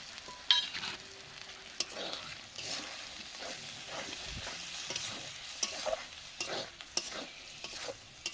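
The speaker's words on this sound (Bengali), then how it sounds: "মশলাটা ভালো করে কষানোর জন্য একটু জল দিয়ে দিচ্ছি।" Spice paste for a mutton curry frying with a splash of water, stirred in a pan: a steady close sizzle broken by repeated scraping stirs and a few sharp clinks, with no talk.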